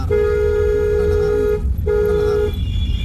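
A car horn blares in a long steady honk in city traffic, cuts out briefly, then sounds again, loud over rumbling engine noise.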